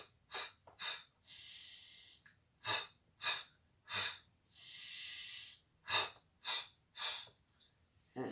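Breathing during a Pilates exercise, close and quiet, a series of sharp nasal inhales and exhales with a few longer, softer breaths in between, no talking.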